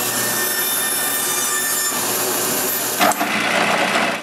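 A power saw cutting rough wooden circles in a workshop, a continuous whining buzz with a sharp change in pitch and a brief clatter near the end, close and loud.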